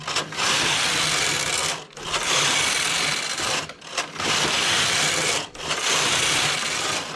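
A knitting machine works a children's skirt in yarn, its carriage making long loud whooshing, rattling passes of about two seconds each, broken by brief pauses as it reverses, four strokes in a steady back-and-forth rhythm.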